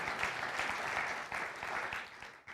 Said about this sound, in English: It's okay if you clap, we're church.